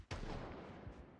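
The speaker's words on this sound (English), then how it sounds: "The thing with the random gunshots you might hear" Distant gunfire in the survival video game Project Zomboid, a sudden muffled boom followed by a long rumbling decay, heard alone with no voices.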